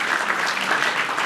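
Audience at a public political forum applauding together, loud sustained clapping from many hands in a hall, dense and even from start to finish without speech.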